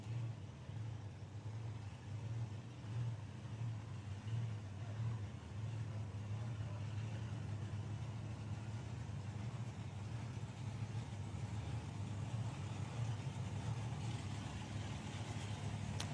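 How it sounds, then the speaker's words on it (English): A pair of drag racing dragsters, one supercharged and one injected, rumble at the STP Summer Nationals strip; a steady, distant, low engine drone holds throughout, quiet and even, with no clear revving bursts. "a couple of dragsters going at it"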